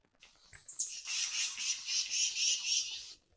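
A wren's harsh mobbing call, a fast buzzy rattling chatter repeated in quick pulses for about two seconds, clear and fairly close, with no talk over it.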